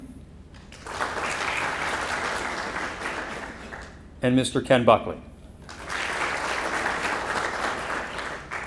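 Audience applause for school officials at a Rotary awards luncheon comes in two sustained bursts of crowd clapping, broken by a short spoken announcement in the middle.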